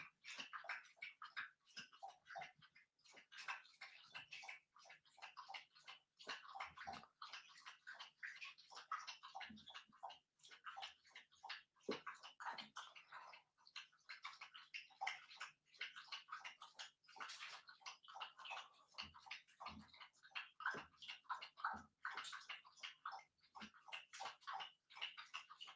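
A dog lapping and drinking water makes a long run of rapid, quiet wet slurping splashes in an irregular rhythm, faint and close, with no voices.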